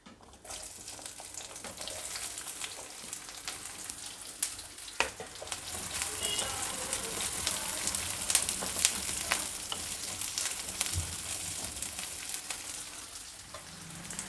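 Onions hit hot oil with whole spices such as cloves and cardamom for a quick leftover-rice pulao, swelling into a steady, bright sizzle with occasional stirring knocks that fades slightly toward the end.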